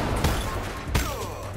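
Two sharp gunshots from a video game ring out about a second apart over a constant low rumble and game noise.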